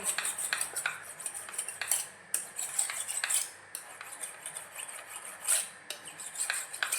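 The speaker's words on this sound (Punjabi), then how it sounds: "ਇਹਦੇ ਉੱਪਰ ਆਪਾਂ ਇਸ ਤਰ੍ਹਾਂ ਘਾਵਾਂਗੇ ਇਹਨਾਂ ਨੂੰ ਤੇ ਆਪਣੀਆਂ ਵਧੀਆ ਤਿੱਖੀਆਂ ਹੋ ਜਾਣਗੀਆਂ ਕਰਦਾਂ ਨੇ" Kitchen knives scraped against the rough unglazed base of a tea cup for sharpening give repeated bright metallic rasping strokes, close and fairly loud, in an uneven rhythm with brief pauses between passes.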